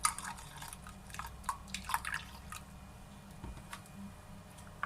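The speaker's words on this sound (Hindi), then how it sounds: "थोड़ा सा दूध डालेंगे इसमें।" A little milk poured into beaten eggs in a bowl for a cheese omelette, heard as faint, sparse drips and soft liquid splashes in a quiet kitchen with no talking.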